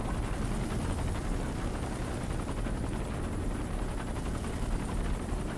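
A helicopter in the video game Ghost Recon Future Soldier makes a loud, dense rotor and engine roar that stays steady throughout, with nothing else standing out.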